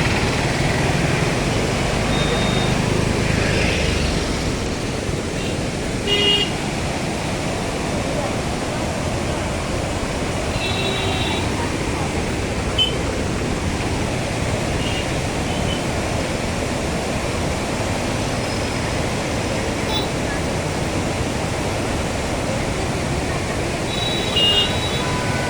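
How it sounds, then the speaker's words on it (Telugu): Fast-flowing water of the Krishna River rushes in a loud, continuous roar, dense and steady like a waterfall, with faint background sounds and a brief louder swell near the start. "ఇప్పుడు ఎంత వేగంగా ఉన్నది చూడండి, వాటరు"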